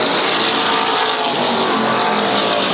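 SK Modified race cars roar around the 1/3 mile oval at Waterford Speedbowl in 1992, a loud, continuous wash of engine noise from several cars passing close, with no talk over it.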